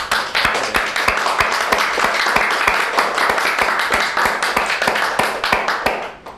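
Steady, dense applause from a ceremony audience gathered to mark Constitution and Flag Day, sharp hand claps rolling continuously for several seconds before tapering off at the end, with no talking over it.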